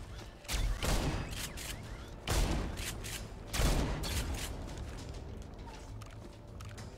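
A shotgun fires at robots in the dieselpunk game INSOMNIA: The Ark, with three loud, close blasts about a second and a half apart, each trailing off into a rumble over low ambient noise.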